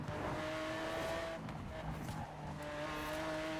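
A car in Forza Horizon 4 drives fast with a steady, moderately loud engine note and tonal whines, a brief dip and scrubbing texture midway, then the engine pulls again; no talk.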